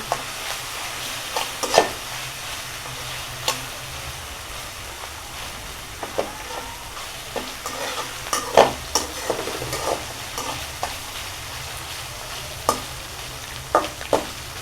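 Steady crackling sizzle of dried chilies frying crisp in hot oil, broken by sharp scraping clicks as a utensil stirs the pan.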